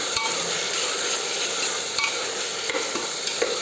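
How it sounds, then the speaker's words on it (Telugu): Chopped tomatoes fry in oil for dal khichdi, giving a dense, steady sizzle close up, broken by a few light scrapes of stirring. "3 టమాటాల వరకు వేసుకుని ఫ్రై చేసుకుంటున్నాను"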